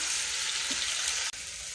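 Bitter gourd frying in a pan over full gas gives a dense, even, close sizzle with one brief sharp break, no voices present.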